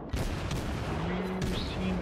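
A German tier three cruiser in World of Warships firing its shells, heavy booming gun reports with a rumbling tail and a second blast partway through, set against a continuous low game drone.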